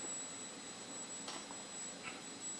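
A motorized camera gimbal stabilizer for a DSLR runs with a faint, steady electronic whine and a brief soft mechanical movement, with no voices.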